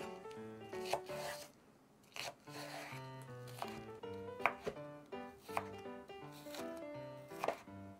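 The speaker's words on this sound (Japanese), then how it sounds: "ネギをみじん切りします。" A knife finely minces green onions on a cutting board for a soy sauce wonton ramen, giving soft, rapid, regular chopping taps at a quiet, close level with light speech in the background.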